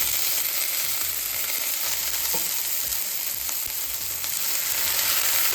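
Onion frying in ghee for a tempering in a Kolhapuri chicken thali, giving a steady, close, continuous sizzle with faint crackles throughout and no talk.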